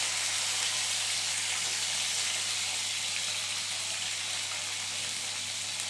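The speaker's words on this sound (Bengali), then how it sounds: "এবং মাছটা ভাজা হচ্ছে" Pieces of katla fish frying in hot oil in a pan: a continuous, even sizzle and crackle, close and steady, with no talking.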